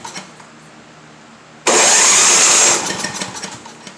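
A Simplicity 7524 snow blower engine, one that won't stay running, catches with a sudden loud burst after quiet background, roars for about a second, then settles to a rougher, lower running note.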